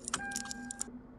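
A car sounding in a quiet room, a short run of faint high jingling taps and a steady thin electronic tone, like a car key fob or alarm chirp, heard alone.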